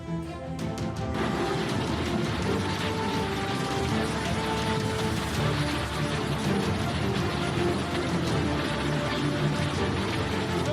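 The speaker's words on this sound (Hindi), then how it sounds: "बारिश मूसलाधार, शहर शहर हाहाकार।" Torrential monsoon rain pours down in a dense, steady roar with sharp clattering hits near the start, continuous and loud throughout.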